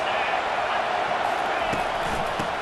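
Stadium crowd roar from EA Sports College Football 25, a steady dense wash of distant voices with a few faint sharp knocks, continuous and loud throughout.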